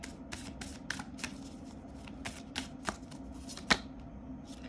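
Tarot cards being shuffled by hand, a rapid run of crisp riffling flutters repeating in short bursts, close and fairly quiet, with no voice over them.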